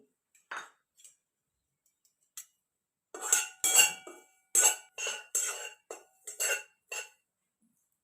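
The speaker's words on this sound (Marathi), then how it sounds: "कढई गरम झालेली आहे तीळ भाजून घेणार आहे" Sesame seeds being dry-roasted in a hot kadhai on a wood-fired clay stove, with a spatula stirring them. Sharp metallic clinks and scrapes come in short, irregular bursts, sparse at first and then busier. No one talks.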